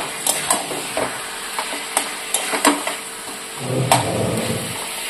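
Chicken pieces, including large leg pieces, sautéing in a pan with a steady sizzle, punctuated by sharp scraping strokes of a spatula against the pan and a thicker burst of frying near the end; no one talks.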